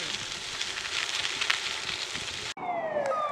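Dam warning siren at the Florence dam before the gates open, a loud rushing wash that cuts abruptly to a clear wailing tone sliding downward near the end.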